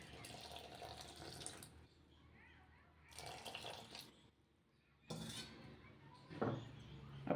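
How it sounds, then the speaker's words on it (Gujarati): Water poured into a bowl of handvo premix in three separate splashing bursts, fairly quiet and close, with short pauses between pours. "તો સૌપ્રથમ પાણી એડ કરશું."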